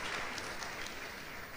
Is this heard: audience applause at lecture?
yes